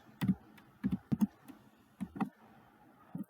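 Someone types an SQL insert command on a computer keyboard, a handful of close, crisp key clicks falling in short irregular bursts with brief pauses between them.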